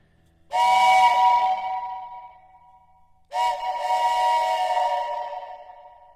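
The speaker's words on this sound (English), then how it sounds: "This is my grandfather's whistle, though." An old whistle blown twice in long, steady tones, each ringing out with a heavy added reverb tail, the second blast longer than the first.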